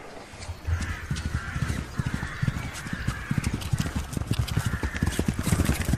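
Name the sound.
horses walking, hooves clip-clopping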